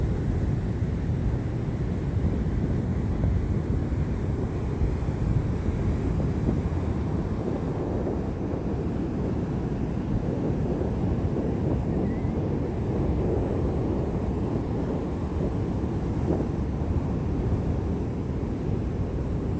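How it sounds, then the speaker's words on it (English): Steady, heavy wind buffeting an outdoor microphone at a beach with surf patrol nearby, a continuous low rumble and roar that never lets up through the whole stretch, with no one speaking. "And it's windy right here."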